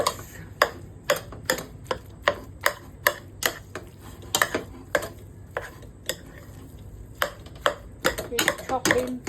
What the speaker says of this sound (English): Keep chopping till eventually it doesn't look like corned beef.